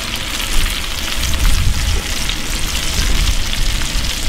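Pre-sliced mushrooms sizzle steadily in a pan while being stirred, a dense, even crackle with a few louder swells, close and continuous with no talking.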